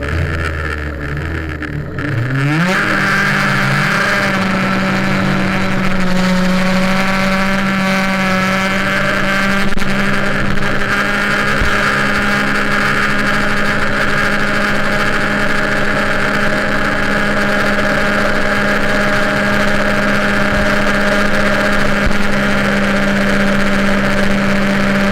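An MBK 51 moped engine with an MVT cylinder kit and a 97 carburettor jet starts with a rising rev, then holds a loud, steady high-pitched drone for the rest of the time, close by with no voices.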